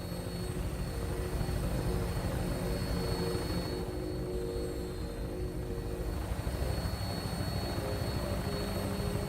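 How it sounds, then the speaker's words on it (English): Steady, loud aircraft engine drone of a vertibird in Fallout 4, a continuous rotor-like roar with a constant whine, holding evenly throughout with no talk. "When we land, Tinker's gonna keep the vertibird spooled for an immediate takeoff"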